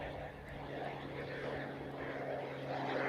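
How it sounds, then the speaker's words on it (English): A propeller airplane flies overhead toward the nearby San Carlos Airport, a faint, steady engine hum with a droning tone over distant ambient noise. "I'm trying to focus it right on the plane. It's going to the San Carlos Airport nearby."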